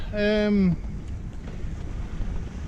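Steady wind rushes and buffets across the microphone aboard a sailboat on a summer sail in a brisk breeze of about 5 meters per second, continuing after a short voice at the start.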